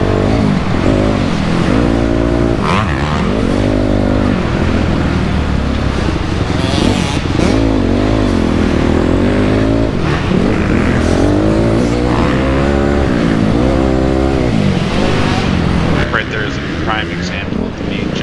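A 2008 Honda CRF250R motocross bike lapping a dirt track, its engine loud and close throughout as it revs up and drops off repeatedly through corners and straights, with a rider's voice over it.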